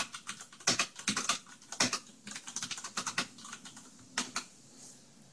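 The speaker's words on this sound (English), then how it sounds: "And we can just type away." Typing on a Ducky DK9008 Shine II mechanical keyboard, close and crisp, with bursts of rapid clacky keystrokes separated by short pauses, no talk.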